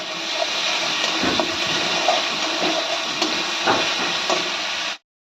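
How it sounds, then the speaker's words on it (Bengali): Water poured into a pan of Bengali-style egg curry after the spice masala has been fried until oil floats, giving a steady hissing, sizzling rush with faint bubbling that runs about five seconds and then stops abruptly. "আমি এবার জল দিয়ে দেবো"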